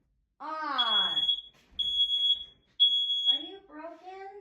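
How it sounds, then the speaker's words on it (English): Home fire alarm going off, shrill high-pitched beeps sounding in three separate bursts, with a voice speaking loudly between and over the alarm. "our fire alarm decided to keep going off at the most inconvenient moments"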